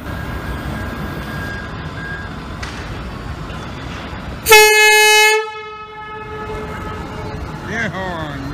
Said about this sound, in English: Do the air horn.